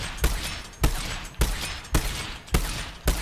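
Heavy turret gunfire from a giant turret in the video game Borderlands 3: six sharp, loud shots fired one at a time at a steady, evenly spaced rhythm, each followed by a short rumbling decay.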